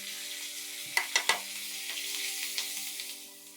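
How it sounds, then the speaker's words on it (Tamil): Mustard seeds and curry leaves spluttering in hot oil for a spicy chutney tempering, with a few sharp close pops early on over a steady sizzle that fades toward the end. "கடுகு பொரியட்டும். கடுகு பொரிஞ்சிச்சு."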